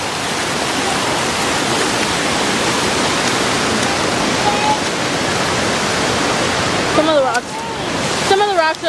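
A waterfall roars with steady, loud broadband rushing throughout, heard from close by on a hike near a cave; near the end brief voices and a child's high calls rise over the water.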